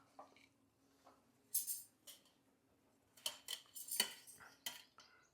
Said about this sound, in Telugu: కొంచెం కరివేపాకు సన్నగా కట్ చేసుకుంటున్నానండి